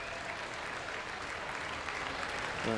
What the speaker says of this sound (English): So that's why the crowd is cheering in the background.